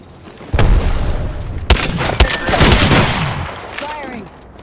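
Rapid bursts of gunfire from Apex Legends gameplay, loud and close, with sharp cracks and booming shots over a busy battle mix and faint voice chatter.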